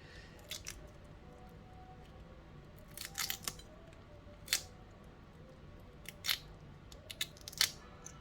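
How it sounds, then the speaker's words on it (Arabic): Kitchen scissors snip along the back of a large peeled shrimp in a few short, sharp clicks spread apart, close and crisp over a quiet room with no speech. "طبعا سلسله الظهر بسم الله بشقها من ورا كده"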